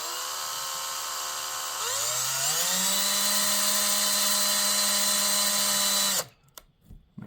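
A power drill bores into an oak dowel arrow shaft, a steady whine that rises in pitch as it spins up, holds a loud even tone for several seconds, then cuts off abruptly, followed by faint handling sounds.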